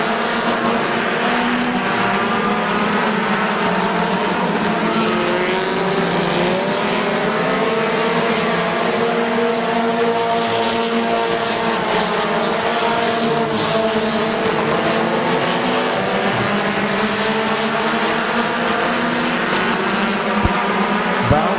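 Race cars roaring around the oval at Midvale Speedway, a continuous loud engine drone with shifting, rising and falling pitch as the pack passes, steady throughout with no break.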